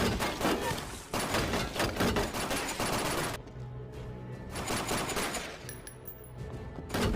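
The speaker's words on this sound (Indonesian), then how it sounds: "Jun yang dipenuhi emosi, dia pun keluar dan langsung memberondong peluru ke arah Han." Automatic gunfire from the film Time to Hunt rattles in dense, loud bursts, a sustained volley followed by a short lull and another stretch of rapid shots with thuds mixed in.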